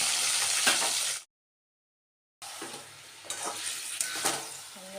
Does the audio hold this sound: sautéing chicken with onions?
yes